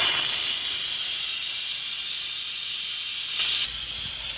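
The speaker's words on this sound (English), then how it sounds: "Let's go ahead and release the steam." An Instant Pot venting pressurized steam gives a steady, loud, close hiss that holds for several seconds, with a brief surge in intensity near the end.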